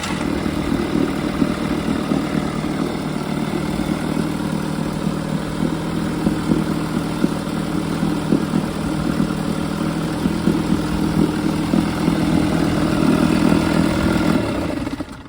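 A vintage HP Johnson FD-12 outboard motor runs steadily in a test barrel, a close continuous engine drone with a buzzing texture that holds its pace and grows slightly louder before cutting off abruptly.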